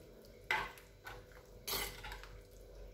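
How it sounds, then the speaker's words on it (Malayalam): A metal spoon mixes a raw banana tamarind curry in a pot, giving two or three clinking, scraping strokes against the vessel with a wet, liquid swish, close and moderately quiet. "ഒന്ന് മിക്സ് ചെയ്ത് നോക്കാം"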